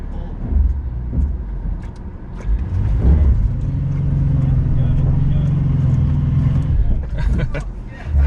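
AWD Honda Passport nudging up a rock obstacle on a Moab trail: the engine rumbles up into a sustained, loud rev that holds for several seconds before easing off, with people talking over it.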